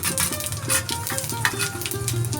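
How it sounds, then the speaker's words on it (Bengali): Whole cumin seeds sizzle in hot oil in a pan for tempering, a steady close crackle and hiss with faint stirring scrapes. "এখন আমি তেলের মধ্যে গোটা জিরে দিয়ে দিলাম"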